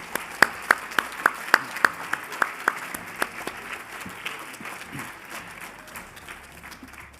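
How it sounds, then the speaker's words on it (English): Audience applause at a spring school awards ceremony: a run of sharp, evenly spaced claps rings out at first, then thins into softer, scattered clapping from a modest crowd, fairly close throughout. "Give them all a big round of applause."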